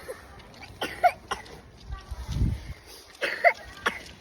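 A young boy coughs a few times in short harsh bursts at home on a cold day, the coughs close by and separated by pauses with some quiet background noise.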